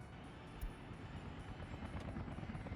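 Helicopters take off in the Soviet-era city-building game Workers & Resources: Soviet Republic, a continuous low rotor rumble and whir at moderate level with no talking over it.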